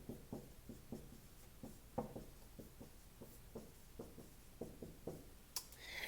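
A pen writes out a math expression in soft, close scratching strokes and taps, coming in short irregular bursts, faint and quiet with no talking.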